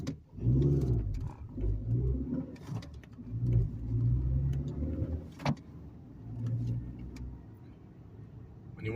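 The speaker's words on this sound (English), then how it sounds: "Downshifting in a second, vehicle slows down by itself." A manual-transmission car's engine drones low and steady as the driver prepares to drop down from third gear at about 30 mph, with the vehicle coasting and slowing on its own. The hum swells and eases in waves, with a faint chirp above.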